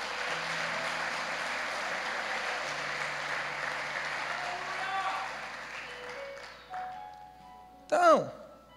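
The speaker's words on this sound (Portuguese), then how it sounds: "Dá um aplauso para Jesus." A church congregation applauds in a dense, sustained wash that fades over several seconds, ending with a brief pitched vocal sound.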